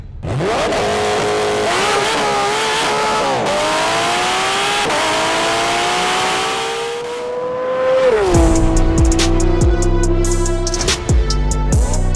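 A twin-turbo Porsche GT3 RS engine revs loudly, pitch climbing and sliding across several pulls, then settles into a rough, rumbling idle with sharp pops near the end.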